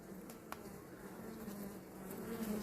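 Honeybees hum steadily at a hive frame, a dense, close, continuous buzz with no talk over it.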